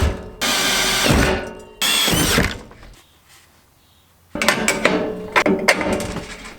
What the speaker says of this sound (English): we'll get some holes drilled here in the top, 3/8 inch